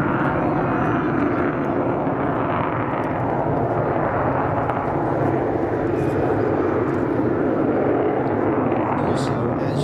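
Avro Vulcan XH558 delta-wing bomber jet performing a display at a 2015 Scottish airshow, its engine roar loud and continuous throughout, with a broad rumbling tone and no pause.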